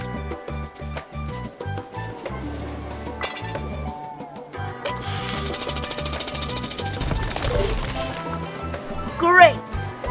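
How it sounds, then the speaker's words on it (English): Rubble's drill breaking rock in the PAW Patrol Mighty Pups Save Adventure Bay video game: a loud, rapid, jackhammer-like pounding in steady bursts with metallic clinks, then a continuous grinding rush. "Use Rubble's drill to clear the rock away."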